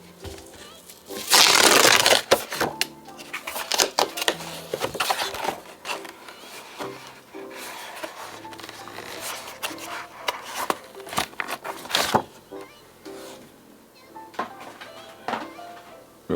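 Unboxing a Galaxy Tab S8+ tablet package: close crinkling, rustling and scraping of cardboard and plastic, with a loud tearing burst early and scattered handling clicks after.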